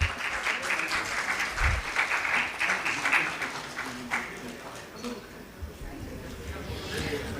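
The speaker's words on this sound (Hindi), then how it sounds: "जोरदार तालियां" Audience applause at a formal honoring ceremony during a cultural event, steady dense clapping sustained throughout, with a voice talking over it.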